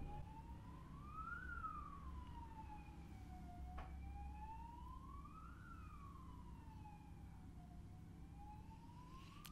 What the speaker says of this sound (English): Just another siren.